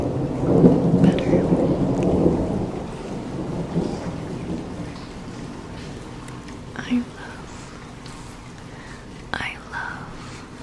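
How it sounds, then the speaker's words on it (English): A thunderstorm with rain comes through an open glass door, a low rolling thunder rumble loudest at first, then fading under steady rain patter, while a soft whispering voice speaks nearby. "I have opened the glass door so that we could hear the sounds"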